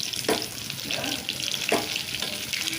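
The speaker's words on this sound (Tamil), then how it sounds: "எண்ணெய் நல்லா ஹீட் ஆனது ஒரு மீனாக போட்டு ஒரு பக்கம் வெந்த உடனே இன்னொரு பக்கம் திருப்பி போடுங்க" Fish pieces fry in hot oil with a steady, bright sizzle, while a few soft knocks and stirring sounds cut through now and then. The cooking is heard close up, and nobody speaks.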